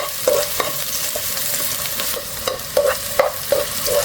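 Chopped scallion and garlic fry in olive oil in a pan, giving a steady close sizzle broken by several soft scrapes and stirs of a utensil, with no talking.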